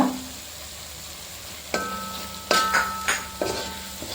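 A spoon scrapes and knocks in a pan as pepper powder and garam masala are sautéed for Kerala chilli pork, a few sharp stirring clatters over a soft background hiss, close and with no talking.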